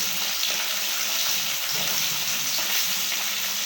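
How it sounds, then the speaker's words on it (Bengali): Fish frying lightly in oil in a pan, a continuous loud crackling sizzle that holds steady throughout without talk. "মাছ হালকা করে ভাজবো বেশি ভাজলে মাছের স্বাদ নষ্ট হয়ে যাবে"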